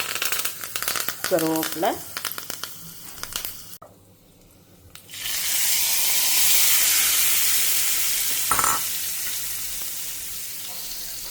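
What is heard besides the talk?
mustard seeds and cumin crackling in hot oil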